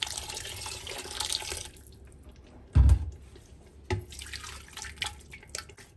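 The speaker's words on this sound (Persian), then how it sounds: "من یک ذره آب جوش اضافه میکنم" Boiling water poured into an Afghan cauliflower qorma stew in a pot, a close splashing pour with a heavy thump and scattered drips and clinks, in a home kitchen with no talk.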